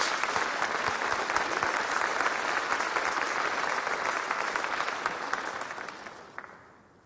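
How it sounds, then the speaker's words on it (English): Sustained applause from the audience at a fire department class graduation ceremony, even and full for several seconds before tapering off and fading out at the end. "Let's give them a round of applause as they come up, please."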